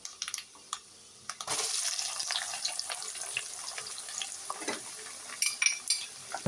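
Onions, urad dal and chana dal frying in a pan, a steady soft sizzle with scattered stirring clicks and scrapes, fairly faint and close, no talking.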